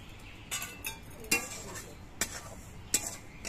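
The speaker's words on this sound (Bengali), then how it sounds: "এবার এই কড়াইয়ের মধ্যে সুজিগুলো আমি দিয়ে দিচ্ছি।" Semolina tipped into a hot wok and stirred, giving soft scraping and a few sharp clinks of a utensil against the metal at irregular intervals, fairly quiet with no talking.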